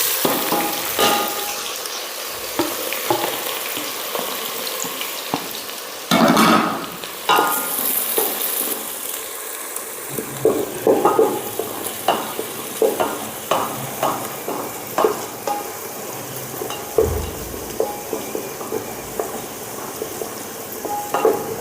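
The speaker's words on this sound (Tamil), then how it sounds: "நல்லா கோல்டன் ப்ரௌன் ஆகிற வரையும் வதக்கிக்கலாம்" Onions and spices sautéing in oil for a chicken basmati biryani: a steady close sizzle under frequent scraping stirs, with a louder hiss when something is added, and no voices.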